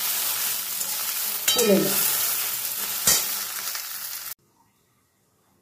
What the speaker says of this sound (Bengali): দেখুন ঢেঁড়সগুলোর গায়ে হালকা কালার এসেছে, মানে ঢেঁড়সগুলো আমার ভাজা হয়ে গেছে।